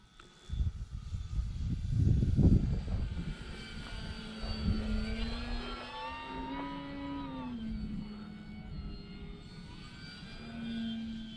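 A small radio-controlled model airplane's engine whines overhead, its pitch rising and falling as it passes, fairly faint against an outdoor background.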